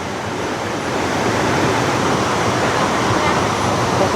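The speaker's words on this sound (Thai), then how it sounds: "น้ำไหลลงนี่น้ำไหลลงเบื้องล่อนี่ไหลขึ้นพี่น้องเลยเพราะว่าน้ำรั้นขึ้นเด้" Kuang Si waterfall in Laos, water pouring down in a dense, steady broadband rush that grows slightly louder after the first second, loud and close, unbroken throughout.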